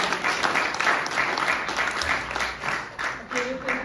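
An audience at a discussion on the future of Hungarian education applauds steadily throughout, a dense wash of clapping that swells and dips slightly, with a faint voice briefly underneath near the end.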